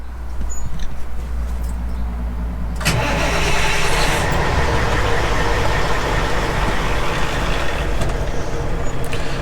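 A Class A truck's diesel engine cranks and catches during a CDL pre-trip safe start. A low idle gives way to a loud start at about three seconds, followed by a steady, rough running rumble.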